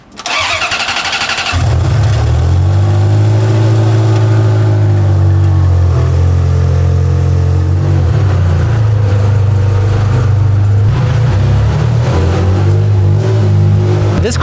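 A Ferrari F355 engine fires up with a burst, then holds a loud, deep, steady idle with occasional small revs, close by and continuous throughout.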